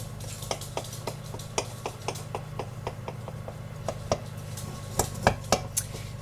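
A spoon cuts cornbread in a cast iron pan, making a steady series of light metallic taps and scrapes that grow a little sharper and louder near the end, over a low background hum.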